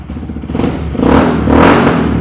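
A Honda Grom motorcycle fitted with a genuine Yoshimura exhaust revs loudly close by. The rough engine note climbs and swells through two rising pulls, with no voices.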